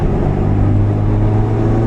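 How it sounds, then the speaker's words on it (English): A roughly 30-year-old Toyota Celica GT-Four with a laggy turbo pulls hard on the Nürburgring, its engine a loud, steady, close drone that holds for the whole moment. "Very laggy turbo"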